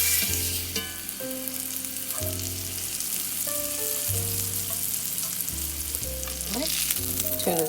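A tuna steak sears in a hot pan with a steady sizzle that runs the whole way through, partly under prominent background music with sustained notes.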